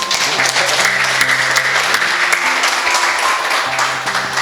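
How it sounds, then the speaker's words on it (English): Wedding guests clap steadily together at a Buddhist wedding ceremony, a close, dense burst of applause with faint music lines underneath and a little background talk. "everybody just give them a clap"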